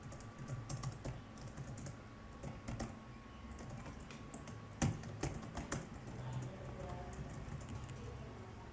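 Python code being typed on a computer keyboard: quiet, irregular runs of light key clicks with a few sharper keystrokes, steady and close.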